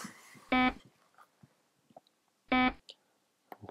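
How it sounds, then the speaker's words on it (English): A Foscam security camera's motion-detection alarm sounds two loud electronic buzzing beeps about two seconds apart, with quiet room noise in between. "Okay, so the alarm is going off."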